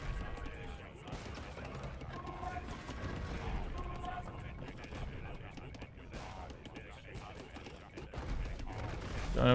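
Cannon fire in a real-time strategy match on the Black Forest map, repeated booming shots amid battle clatter, mid-distance and fairly steady, under commentators' talk.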